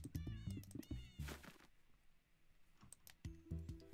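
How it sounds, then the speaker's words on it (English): Several short cartoonish Minecraft meows in quick bursts as blocks are placed, separated by a quiet gap, with soft clicking taps mixed in. "when you place down the block, it makes a cat sound"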